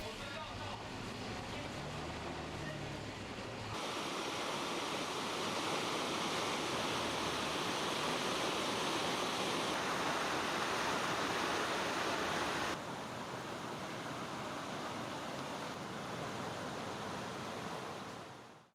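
Waterfall at a lake near Lijiang, China, a dense, steady rushing roar of falling water that fills the whole scene, unbroken and fairly close, with shifts in level as the listening position changes.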